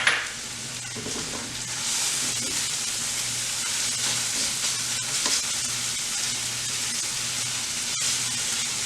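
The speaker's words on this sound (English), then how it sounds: "I'm going to put my shallots right in there. Get those sizzling up." Shallots sizzle in a hot pan with a steady, close frying hiss throughout, a faint low hum underneath and occasional soft clicks of stirring, with no talk.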